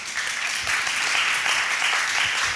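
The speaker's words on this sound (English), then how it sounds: "welcome him with a warm applause" Warm applause from a seated audience at a documentary photography talk, a steady dense wash of many hands clapping at even loudness throughout, with no voices over it.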